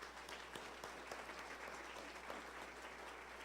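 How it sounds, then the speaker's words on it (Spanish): A church congregation gives the fathers a warm round of applause, a steady, dense wash of clapping that holds evenly throughout at a moderate, slightly distant level. "un caluroso aplauso."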